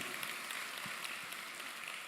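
A church congregation applauds at a sermon, a dense, soft patter of many hands clapping continuously and fairly distant for about two seconds, with no voices on top.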